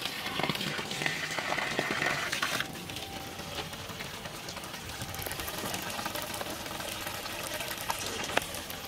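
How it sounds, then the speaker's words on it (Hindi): Water is poured into the pipe of a home earthing pit, making a steady, faint gushing and splashing that runs continuously for several seconds with no talk. "अब फ्रेंड्स हम इसके अंदर डालेंगे थोड़ा पानी"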